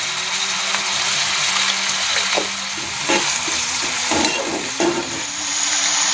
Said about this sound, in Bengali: লাল লাল করে পেঁয়াজগুলো একটু ভেজে নিই,